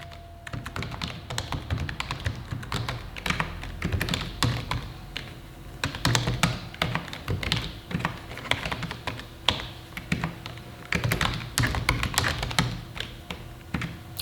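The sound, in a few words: typing on a computer keyboard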